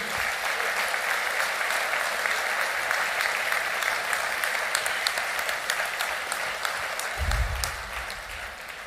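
An audience at a municipal New Year's greetings ceremony in Mandelieu-La Napoule applauds the police forces. Strong, dense clapping runs steadily for about nine seconds and eases slightly near the end, with a low thump partway through.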